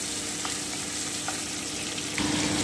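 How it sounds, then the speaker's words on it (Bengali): Prawns fry lightly in hot oil with a soft, even sizzle and hiss, plus a few faint clicks, growing slightly louder near the end. "মাছ কিন্তু আমি খুব হালকা ভাজবো, আর চিংড়ি মাছ কখনোই বেশি ভাজতে হয় না"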